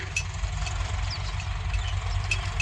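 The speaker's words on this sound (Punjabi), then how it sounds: "ਉਧਰ ਰੋਡਾ ਬਾਈ ਵੀ ਲੱਗਿਆ ਵਾ ਜੀ ਟਰੈਕਟਰ ਲੈ ਕੇ" A tractor engine idles steadily with a low, rumbling chug, close by and continuous, with faint high chirps above it.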